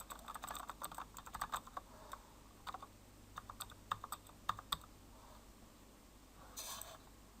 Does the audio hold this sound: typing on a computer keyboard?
yes